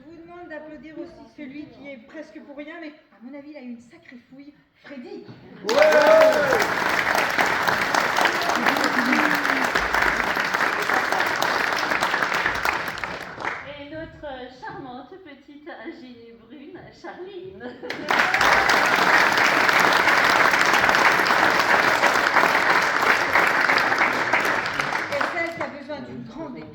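Two long bursts of audience applause at an amateur theatre performance, each lasting several seconds, separated and preceded by someone speaking over a quiet room.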